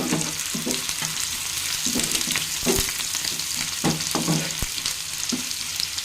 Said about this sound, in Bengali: পেঁয়াজটাকে এখন একটু ভেজে নেব